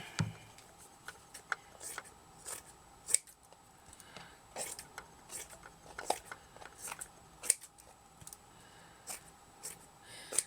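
Scissors snip through craft material for shabby chic Christmas baubles, a quiet run of separate crisp cuts at an uneven pace, close and clear with soft handling noise between them.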